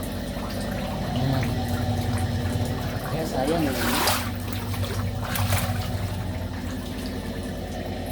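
Water pouring and trickling out in a steady, continuous flow, fairly close, with someone speaking briefly over it partway through.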